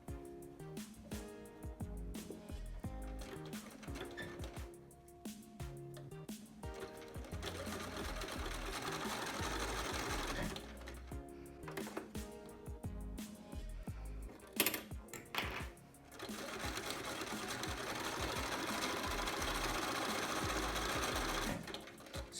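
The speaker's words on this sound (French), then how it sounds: "Et je couds." A domestic sewing machine stitches fabric for a tote bag, running close and steady in long continuous passes with brief pauses and soft clicks and handling noises between them.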